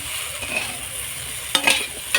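Vegetables go into a pan of fried spices for a spinach dish, a soft continuous sizzle followed by a burst of clattering and scraping as they are tipped in and stirred, close, with no speech.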